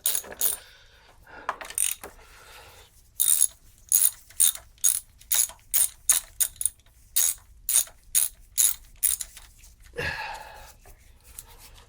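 A ratchet undoes the 10mm engine cover bolts on a 2001 Vauxhall Astra G. It is close up, with a fast run of sharp clicking bursts in regular repeated strokes and short pauses between them.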